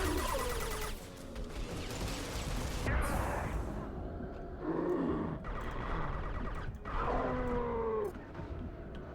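A chaotic sci-fi firefight in Mass Effect 2 sounds as dense, continuous bursts of gunfire and impacts. Loud, overlapping shots sound close and run throughout with little pause, and a few voices come through the din.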